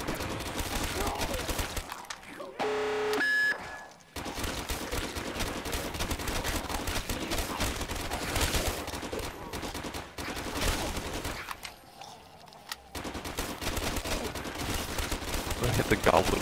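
Sustained automatic gunfire from Call of Duty zombies mode, loud rapid bursts rattling almost continuously with two brief lulls, a player's voice talking over it.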